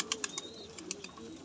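Pigeons in a loft with a domestic pigeon close by, short soft coos and flutters scattered over low background hum, with no talking.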